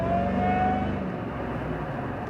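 A 2003 Ford F-150 SVT Lightning pickup accelerating at half throttle on the road, a steady loud engine drone with a rising whine from inside the cab, no talking.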